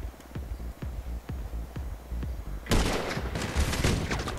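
Gunfire in the GTA 5 online video game: a rapid, rhythmic string of shots, then a much louder, dense burst of heavy fire that fills the rest of the moment.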